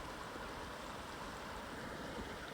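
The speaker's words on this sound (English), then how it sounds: "that is the hot water coming in on that stream to the left, meeting up with the Snake River" Hot spring water running in a small stream where it meets the Snake River in Yellowstone National Park, a steady, even rush of flowing water, faint and unbroken throughout with no voices.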